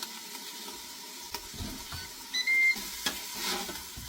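Beef browning in a pan for a red wine gravy gives a low, steady sizzle with occasional stirring clatter and a couple of brief beeps, close and without talking.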